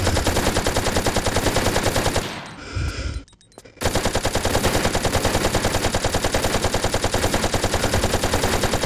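Dense, rapid automatic gunfire from weapons in a Tomb Raider custom level, a loud continuous stream of shots that breaks off briefly midway, then resumes and keeps going without pause.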